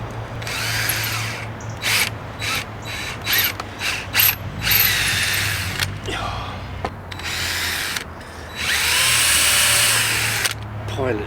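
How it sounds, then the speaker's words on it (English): A power drill bores pilot holes in wood for a rebuilt cabin's side door, running in several loud bursts of whirring and ratcheting with brief pauses between them, a longer steady run near the end. "Pilot drill,"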